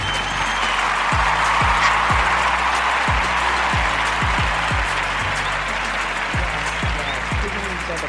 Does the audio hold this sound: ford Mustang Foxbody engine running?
no